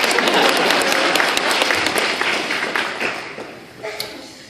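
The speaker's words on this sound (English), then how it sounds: "a round of applause for being the first." An audience at a comic con panel breaks into applause, dense clapping that is loud at first and then fades away over a few seconds, with faint voices underneath.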